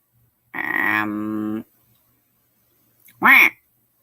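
A toy duck gives two loud, nasal quacks, a long one and then a shorter squawk after a pause, both close up against silence.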